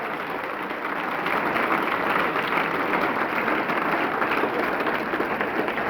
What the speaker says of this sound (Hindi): एक बार इन बच्चों के लिए जोरदार तालियां।